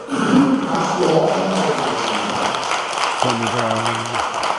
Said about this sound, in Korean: 우리 문영권 목사님 나오실 때 큰 박수로